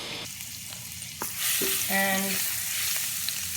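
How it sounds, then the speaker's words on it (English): Garlic hitting a hot pan for a vegan chicken piccata, giving a short, close burst of frying sizzle with a clatter of stirring that settles into steady hiss, after a single spoken word. "Alright, now I'm going to add the garlic."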